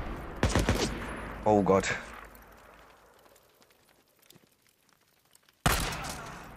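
Gunfire in the zombie survival video game Days Gone, a few sharp loud shot bursts at the start and again near the end with a quiet stretch between, while someone speaks briefly over the first shots.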